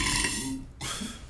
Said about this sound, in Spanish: Tú sí me pusiste a mí mi eructo